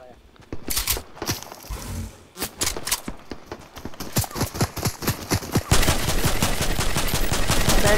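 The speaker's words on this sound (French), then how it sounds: "Oh merde, on me tire dessus derrière." Rapid gunfire in a first-person shooter game cracks out in dense bursts, with a sustained barrage in the final seconds, as the player comes under fire from behind; in-game footsteps mix in, and a voice speaks over it.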